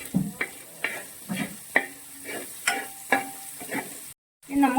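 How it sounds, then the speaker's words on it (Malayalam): Lengthwise-sliced green chillies for fish pickle sauté in a pan, a steady sizzle punctuated by about eight rhythmic spatula scrapes and knocks, close and clear, with a short silent gap near the end. "അതും എല്ലാം കൂടി ഇട്ട് നന്നായിട്ട് വഴറ്റിയെടുക്കണം."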